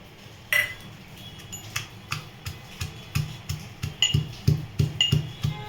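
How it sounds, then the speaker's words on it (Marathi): Green chillies and garlic crushed in a mortar and pestle, a series of sharp stone knocks and grinding taps that grow more frequent and rhythmic toward the end, close and alone. "मी खलबत्त्यामध्ये बारीक करून घेते"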